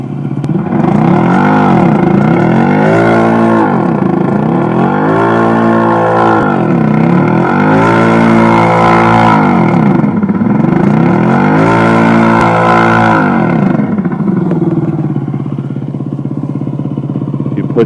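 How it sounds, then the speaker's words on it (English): A custom eBike's simulated motor engine sound, driven by the thumb throttle, revs up and down repeatedly in rising and falling sweeps, loud and close, then settles toward a steady hum. "you can basically program it up to make a different engine noises, and if you give it thumb throttle"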